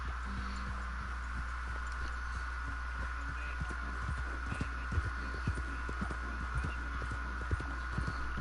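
A horse gallops in a video game, its hooves striking in a steady, rapid clip-clop over a constant low hum, with no voices.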